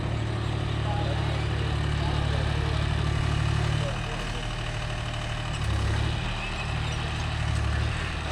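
A John Deere 5050D diesel tractor runs quietly on muddy farmland, giving a steady close low engine drone that dips slightly in level midway, with some faint talk over it.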